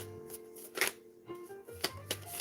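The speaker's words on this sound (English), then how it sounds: "so just keep shuffling" Tarot cards shuffled by hand in short bursts, a few riffling flutters and soft taps with pauses between, close and fairly quiet with no talking.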